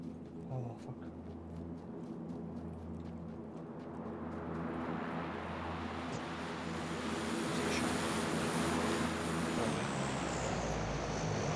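Airplane passing overhead in Battlegrounds, a broad engine roar that swells steadily louder and closer over several seconds until it fills the scene.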